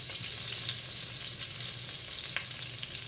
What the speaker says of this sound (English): now I'm going to put my onions in there because this is melted